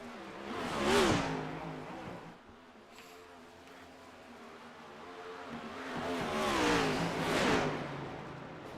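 Race car engines in a NASCAR iRacing game at the Monza Oval, two loud swelling passes with rising and falling whine around a quieter stretch of distant engine drone.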